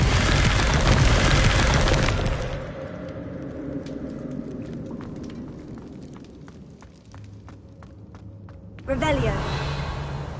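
A Confringo fire-curse blast from a Harry Potter–style video game erupts as a loud, broad roar for about two seconds, then gives way to crackling debris and scattered clicks before a second burst of noise near the end.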